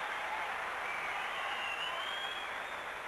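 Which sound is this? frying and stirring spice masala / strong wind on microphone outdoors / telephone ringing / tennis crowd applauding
tennis crowd applauding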